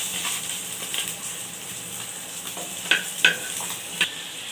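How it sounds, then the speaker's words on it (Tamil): Chicken 65 pieces deep-fry in hot oil in a kadai with a continuous bubbling hiss, punctuated near the end by a few sharp metallic clicks or pops. "இப்போ வந்துங்க சிக்கன் 65 பொரிச்சிக்கிறோங்க"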